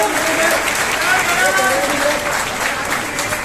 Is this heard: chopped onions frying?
no